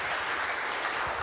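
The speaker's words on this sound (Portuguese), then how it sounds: "Uma salva de palmas para Jesus, amém?" A church congregation applauds during a Sunday morning service, a brief, dense wash of hand-clapping that stays steady and fairly loud throughout, with no voices standing out.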